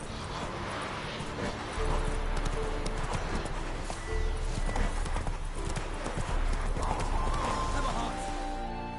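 A horse galloping in The Witcher 3: Wild Hunt, rapid rhythmic hoofbeats pounding close by over several seconds, with a brief whinny, game music and voices mixed in.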